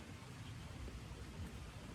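Steady rain falling, a constant even hiss with low rumble throughout, fairly faint and without talking.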